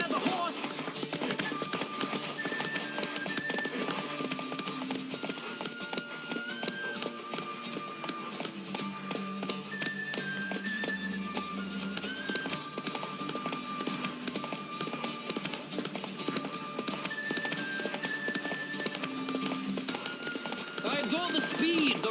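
Roach, Geralt's horse in The Witcher 3: Wild Hunt, gallops in a game with rapid, steady hoofbeats that run throughout. A voice is heard at points over the game music and ambience.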